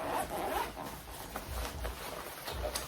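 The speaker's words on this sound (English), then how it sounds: "And when you open it, the second zipper," A double zipper on a compression packing cube is pulled open in short, scratchy runs, close and fairly quiet, with no talking over it.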